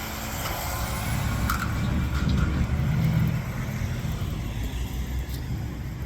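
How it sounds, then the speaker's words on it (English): A garbage truck passing close by on a street, a loud steady engine rumble that swells and lingers, with a faint squeal and clatter mixed in. "Garbage truck, hold on."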